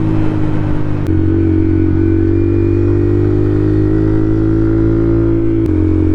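A Honda Monkey bike fitted with a Yoshimura exhaust, ridden at speed, gives a loud, steady engine drone close to the microphone, with two brief gear-change dips breaking the continuous note.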